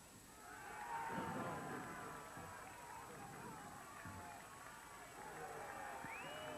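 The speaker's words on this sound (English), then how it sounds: "You can hear that for yourself, the crowd." Crowd noise at a VAFA Division 4 football grand final, South Melbourne Districts versus Bentleigh in 2000: a steady outdoor hubbub of distant spectators, with a faint swell of voices throughout and a constant thin tone.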